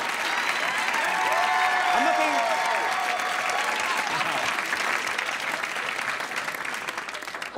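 A studio audience at a music quiz show applauds warmly and steadily, with a few cheers and voices mixed in, holding level before easing slightly at the end.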